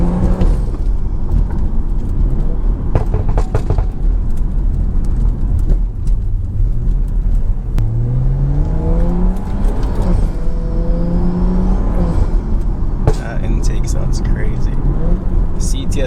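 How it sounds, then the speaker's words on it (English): Tuned Stage 2+ BMW with a GTS turbo intake and loud exhaust accelerating on a night drive: a close, loud engine rising in pitch through several gears with whooshing turbo sounds and shifts, and a voice talking over it. "GTS turbo intake, by the way. In my opinion, it's the best sounding intake."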